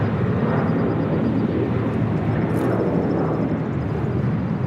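A Hawaiian Airlines Boeing Dreamliner airliner at LAX gives off a loud, steady broadband jet roar that holds evenly throughout, with no voices.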